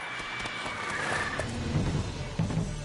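Roach, Geralt's horse in The Witcher 3, gives a loud whinny over a few hoof clops and background game ambience, with no talking.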